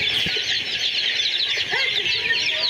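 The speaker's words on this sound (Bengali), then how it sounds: "রানিং ডিম পাড়া কুইল পাখি আছে" Egg-laying quail in a poultry shop keep up a dense, continuous twittering chatter of many birds, fairly close and steady, with a few faint low knocks underneath.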